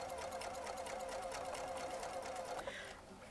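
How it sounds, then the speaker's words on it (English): A sewing machine runs steadily with a rapid, regular mechanical stitching rhythm, close by, then slows and stops near the end. "So now going to our sewing machine."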